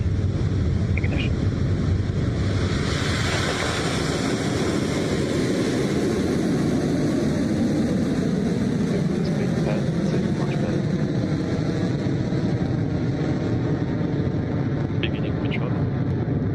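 A Rocket Lab rocket launch carrying a Japanese Earth observation satellite gives a sustained deep rumbling roar with a broad rushing hiss, steady and heavy, with faint voices now and then over it.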